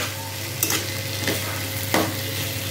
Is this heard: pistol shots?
no